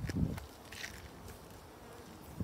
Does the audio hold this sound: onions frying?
no